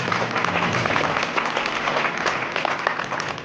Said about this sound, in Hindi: जोरदार तालियां इस शैक्षणिक सत्र के लिए।